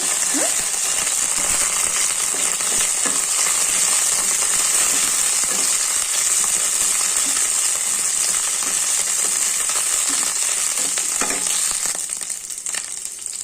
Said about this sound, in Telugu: ఇట్లా కొంచెం మిరపకాయలు వేయించుకోండి